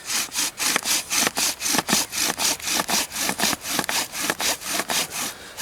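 Rapid rhythmic rubbing of a beech wood spindle in a bow drill friction fire kit, about three back-and-forth strokes per second, close and steady with no talk.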